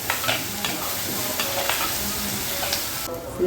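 Tomatoes sizzle and fry in a pan for a bitter gourd gravy, a steady close crackling hiss broken by several scraping stirs of a spoon, with no talking.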